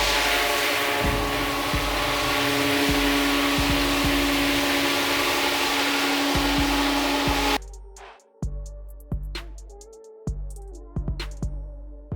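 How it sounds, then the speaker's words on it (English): A rented floor buffer fitted with 60 grit sandpaper roars steadily while sanding a floor, with rhythmic bumps underneath, then cuts off, leaving a series of knocks and clunks. "It's just a regular buffer with some sandpaper on the bottom."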